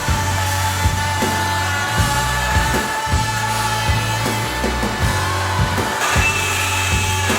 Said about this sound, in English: we're going to give the multi-tool a go with a new blade